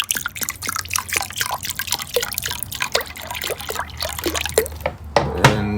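Water poured into a thick, syrupy mixture to rehydrate it, a close run of irregular drips, splashes and trickles over several seconds, ending in a fuller gurgling pour.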